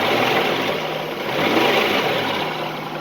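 A car engine with a suspect alternator, running loud and close as the revs rise slightly, giving a steady, broad rumble that swells a little midway.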